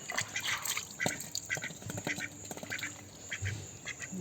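Several ducks quack repeatedly, close by, while they are being bathed, with splashing water underneath.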